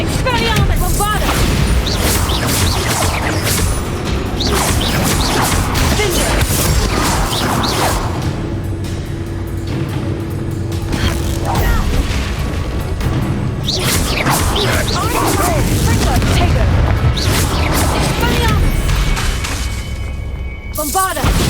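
Repeated Bombarda spell explosions in Hogwarts Legacy crash and boom in loud, dense bursts amid whooshing spell casts and shattering debris, with a voice calling out spells over the combat.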